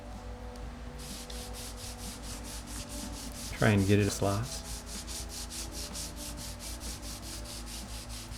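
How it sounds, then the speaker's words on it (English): A vintage Fender Telecaster Custom neck is sanded by hand with sandpaper, giving steady, rhythmic close rubbing strokes throughout, with a brief spoken phrase partway through. "I'll do the rest of the sanding by hand, cleaning off my sandpaper often."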